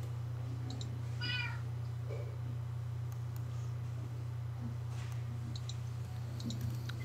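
A person imitating a cat gives a single short meow that rises over a steady low electrical hum, followed by faint clicks, during a Minecraft game.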